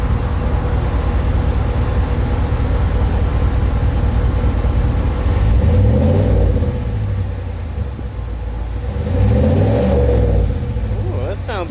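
The deep V8 engine of a 2019 Ram 1500 pickup truck with straight pipes rumbles loudly and continuously, revving up twice in slow surges. Voices talk faintly underneath.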